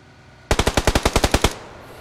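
Rapid automatic gunfire from a vehicle in the video game PUBG Lite: about a dozen sharp, evenly spaced shots in a one-second burst, loud and close, with no talk.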